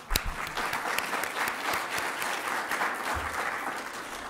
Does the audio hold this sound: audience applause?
yes